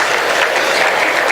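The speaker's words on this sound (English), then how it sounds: "let's give another round of applause for Sukalyana Bhattacharya troupe" A gala audience claps for a dance troupe, a short, even burst of massed applause heard up close with no voices over it.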